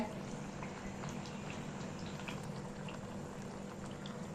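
Murukku fry in hot oil with a steady, busy bubbling and crackling sizzle, close and even throughout, alone without voices.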